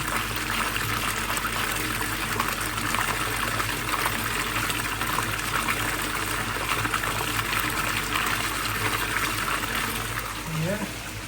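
Air pump bubbling and aerating water in a koi pond, a steady close rushing, fizzing gush that runs unbroken throughout, with no talk.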